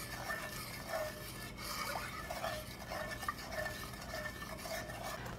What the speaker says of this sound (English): Stir this and keep stirring until this boils.